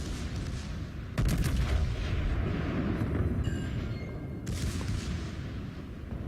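Heavy battleship guns boom in a World of Warships naval battle, a dense low rumble throughout with a sharp loud salvo near the start and another blast later, loud and continuous with no voices.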